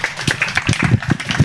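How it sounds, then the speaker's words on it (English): Audience at a SpeakuP Monday startup talk applauds speaker Henry Love, a short burst of scattered, fairly close hand claps with a few louder individual claps standing out, mixed with faint background voices. "So round of applause for our brother Henry."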